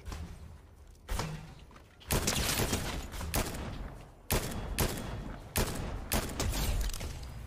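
Heavy video game gunfire erupts in loud, abrupt bursts and single booming shots, separated by brief lulls, dominating the scene with little talk.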